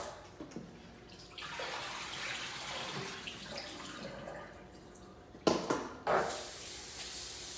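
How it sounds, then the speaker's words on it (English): Running water rinses food, chicken feet with some feathers still on, under a tap, a steady close splashing with a few louder bursts near the end and no talking. "I'm just giving them a good rinse."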